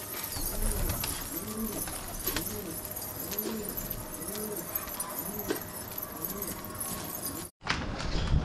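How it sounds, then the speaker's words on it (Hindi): Pigeons coo repeatedly in a rhythmic, close chorus as they land, with soft rustling and shuffling beneath, before a brief drop-out near the end. "ये उतरे भाई अपने सारे कबूतर"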